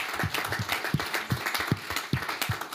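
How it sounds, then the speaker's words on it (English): Applause at the Munich Security Conference during a debate, with a few close, strong hand claps in a loose rhythm over a softer spread of clapping from the audience. "maybe we can give you a large applause for that fantastic work"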